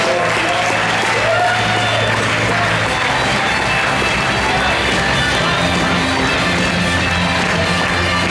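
Audience at a slam poetry competition applauding a performer after his scores, a loud, dense, sustained round of clapping and cheering from a full room. A voice is briefly audible over it.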